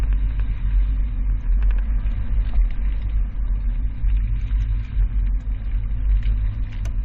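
A 2017 Toyota fitted with a Yakima RidgeBack five-bike rack weaves through a slalom test course, its engine and road rumble droning steadily and fairly loud throughout, with no talking.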